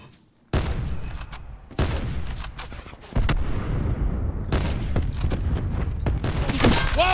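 Loud gunfire and booming blasts from Call of Duty, heavy repeated shots and explosions crowding together in dense bursts with little pause between them.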